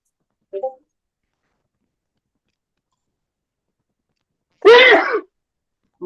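A single sharp sneeze comes through close and loud in an otherwise quiet online meeting, preceded by a brief faint vocal sound.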